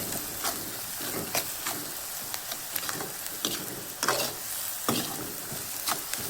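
Onion masala mixture for Haryana-style kadhi pakora frying and being stirred in a pan, a steady close sizzle with repeated scraping stir strokes, no voices.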